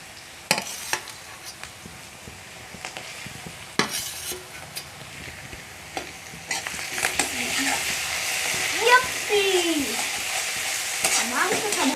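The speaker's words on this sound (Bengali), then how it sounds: "পেঁয়াজটা ভাজা হয়ে গেছে, এবার দিয়ে দিচ্ছি রসুন বাটা আর আদা বাটা।" Onion frying with garlic and ginger paste for a country chicken curry, with scraping stir strokes and sharp clinks of a spoon against the pan as a soft sizzle swells over the last seconds.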